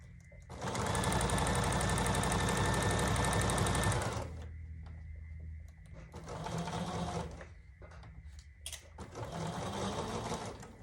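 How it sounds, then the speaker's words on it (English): A sewing machine stitches a quarter-inch seam along a fabric edge, running in three bursts: a long loud whir, then two shorter runs separated by pauses with faint handling noise. "I'm gonna sew 1/4 inch down this edge."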